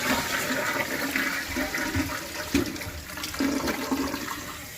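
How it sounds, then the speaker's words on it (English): A toilet with a newly fitted Fluidmaster 400A fill valve flushes with a loud, rushing gurgle of water that drains and swirls steadily for several seconds, heard up close with no talking. "We'll give it a flush."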